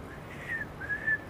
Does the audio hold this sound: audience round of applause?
no